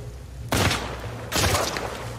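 Gunfire in The Last of Us Part 2 video game: two heavy, booming shots about a second apart, loud and close, each trailing off into a lingering rumble, with no talk.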